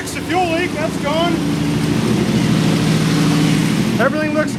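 A car engine idles slightly fast with a steady low rumble throughout, after a fuel leak repair, while a person talks briefly near the start and again at the end.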